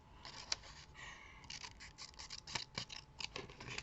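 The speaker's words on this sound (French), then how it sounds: "j'arrive pas à couper droit" Scissors cutting paper or material while testing small AliExpress craft kits, giving close, quiet snips and crisp scraping cuts in an irregular rhythm with no talk.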